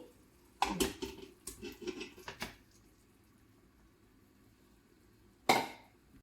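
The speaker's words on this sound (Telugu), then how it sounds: "ఇలా పన్నీర్ వేసుకొని ఇలా ఒకసారి మిక్స్ చేసుకోవాలండి" Metal clatter and scraping burst out as marinated paneer goes into a pan and gets stirred. A few seconds of busy clinking are followed by a quiet gap, then one more sharp scrape near the end.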